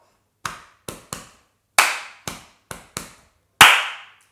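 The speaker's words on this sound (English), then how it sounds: "the first half starts with that nice thud sound on your chest" Eight sharp percussive slaps on the chest in a body percussion rhythm, sparse and uneven, some louder and brighter than others, close up with silence between hits.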